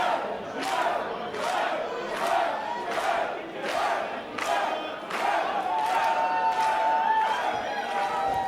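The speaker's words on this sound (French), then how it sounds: "on entend les bruits de la foule et je vous laisse apprécier" Crowd at a Drag Attack Wrestling catch show at Le Virage shouting and chanting in a steady rhythm, loud surges about once per second, then a more continuous roar of cheering.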